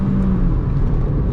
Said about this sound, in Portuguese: agora sim, barulho de motorização entra bastante, joguei terceira marcha